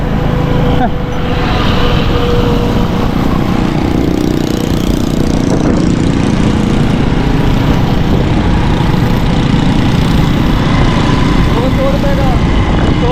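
A motorcycle engine runs steadily and loud while riding through Karachi streets, a continuous close drone with traffic noise around and voices talking over it.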